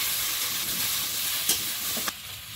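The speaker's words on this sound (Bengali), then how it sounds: "এদিকে কচুরমুখী ভাজা চাপিয়েছি" Taro corms (kochurmukhi) frying in a wok with a little salt and turmeric, giving a steady broadband sizzle throughout, punctuated by a couple of brief sharper crackles near the end.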